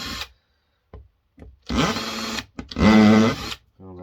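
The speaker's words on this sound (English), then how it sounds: "So we want to get all those screws out and see if we can release this motor." A power driver whirs in two short bursts, the second with a rising motor whine, as screws are backed out of a Bosch electric mixer, with quiet taps and gaps between.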